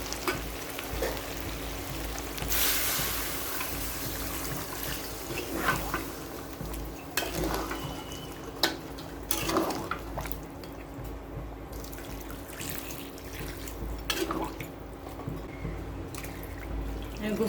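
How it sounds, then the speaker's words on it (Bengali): Hot water pours into a pot of braised Eidul Adha beef for beef pulao, a steady watery splashing and dripping over faint sizzling that runs the whole time, with a few utensil clinks close by. "এখন আমি গোশত সিদ্ধ হওয়ার জন্য গরম পানি দেব।"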